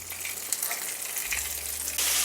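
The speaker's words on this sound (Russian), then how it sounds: "И теперь на среднем огне обжариваю котлеты" A steady hiss and crackle of fish patties frying in hot oil over medium heat fills the scene, close and continuous, with a low hum underneath and a louder sizzle at the end.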